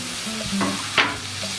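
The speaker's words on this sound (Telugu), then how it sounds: "ఇప్పుడు అందులోకి మనం ముందుగా కట్ చేసి పెట్టుకున్న క్యాప్సికాన్ని వేసుకుంటున్నాం" Chopped capsicum tipped into a pan of fried onions and stirred, with a steady sizzle of frying, a soft clatter as the pieces go in and a brief scrape partway through.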